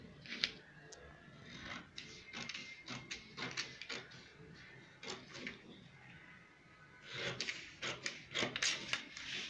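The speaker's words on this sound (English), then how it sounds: "so I'm going to cut off through my neckline" Scissors cut along the neckline of a paper or fabric princess bustier shift gown pattern, giving a run of soft, close snips and rustles at an uneven rhythm with no talking.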